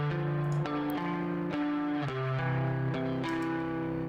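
Clean electric guitar arpeggio from a Fender Jaguar through a Boss compressor pedal and a GHS 424, recorded as a direct signal. Steady repeating plucked notes ring together at an even volume with no other sounds.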